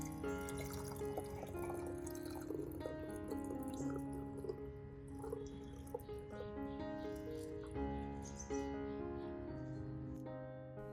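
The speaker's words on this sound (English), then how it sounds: "Strain all the rice water into the jar containing aloe vera and sugar." Rice water is strained into a jar holding aloe vera and sugar, a steady trickle with soft drips and splashes running on throughout, fairly quiet and close, with no voices.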